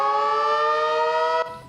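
A village alarm siren in southern India sounds its evening signal, a steady, loud, sustained wail that holds one pitch, then cuts off abruptly near the end.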